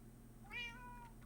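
A cat in the Minecraft video game gives a single clear meow, short and rising then falling, quiet against a low steady background hum.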